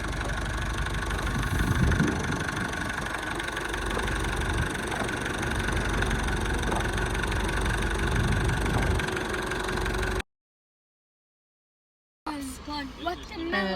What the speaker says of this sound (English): And Chad is in charge of tractor driving